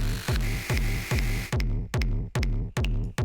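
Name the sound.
layered electronic kick drum with sample pack kick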